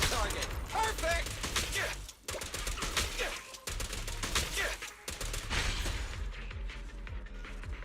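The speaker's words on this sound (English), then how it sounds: "Seeing the bang boo just whip out a dual mini machine gun is crazy." A dual mini machine gun firing in the video game Zenless Zone Zero: dense, continuous rapid-fire rattling with heavy impacts, loud and close, easing off toward the end, with a person talking over it.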